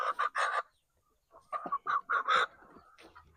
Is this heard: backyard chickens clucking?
yes